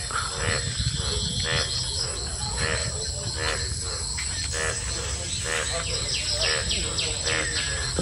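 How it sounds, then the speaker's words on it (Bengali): Morning outdoors near banana plants: repeated bird chirps and calls ring out over a constant bed of insect and cricket buzzing, fairly close and lively throughout. "এখানে পাখি কিচিরমিচির করতেছে।"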